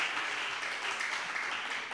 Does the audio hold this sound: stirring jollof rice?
no